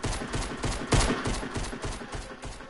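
Rapid video game gunfire rattles steadily in a dense, continuous burst of repeated shots, close and moderately loud, with no voices.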